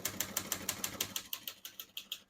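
Crisp keystrikes on a 1956 Olivetti Lettera 22 portable typewriter, about a dozen sharp, evenly paced clacks in quick succession, close and fairly quiet with no other sound.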